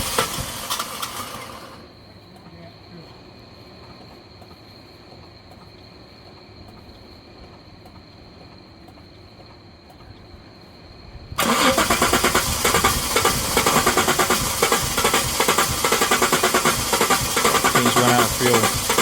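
A barn-find Jaguar XJ with 17,000 miles, sat unused for years, cranks with a whirring starter and then catches, settling into a loud, rough, steady running engine close by.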